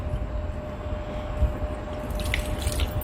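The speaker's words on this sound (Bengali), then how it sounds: "কাটার পর আবার আমি 3 থেকে 4 বার ফ্রেশ পানি দিয়ে ধুয়ে নেব।" Fish being washed under a running kitchen tap, steady water flow and splashing with some drips, fairly close, no voices.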